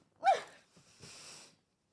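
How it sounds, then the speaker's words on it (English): A single sneeze indoors: a sharp burst with a short breathy intake, followed after a brief pause by a softer hissing exhale, then silence. "I'm gonna sneeze."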